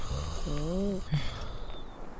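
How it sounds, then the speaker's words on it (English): A man asleep in bed lets out a single drawn-out snore, close and fairly clear, over a constant low background hum. "But my husband's snores drown it out."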